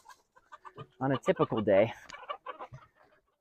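Backyard chickens cluck at feeding time in short, close, pulsing bursts, with a brief spoken phrase mixed in.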